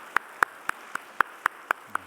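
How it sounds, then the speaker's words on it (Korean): A church congregation at a Sunday worship service claps in a slow, even unison rhythm, about eight distinct claps in two seconds, faint and distant, with no talk over them. "다시 한번 박수하겠습니다"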